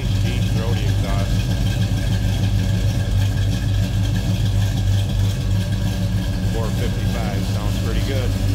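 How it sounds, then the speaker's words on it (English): The 455 V8 of a 1970 Oldsmobile Cutlass S idles with a steady, low, throbbing rumble, loud and continuous, with faint mechanical clatter over the top. "455 sounds pretty good."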